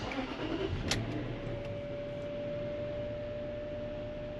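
A Land Rover LR3 engine with the bonnet open, just after an ECU repair, runs in a steady, even hum close by, with a brief click near the start and no voices.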